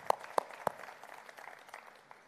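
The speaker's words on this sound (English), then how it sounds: "Big round of applause to all that we achieved together in the last 1 year" At a Forevermark corporate forum, an audience gives a round of applause: three sharp, close claps ring out first, followed by scattered, softer clapping that thins out.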